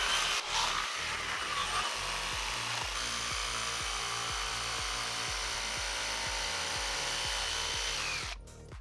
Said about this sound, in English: Lizette steps in and cuts the posts out using just the jigsaw.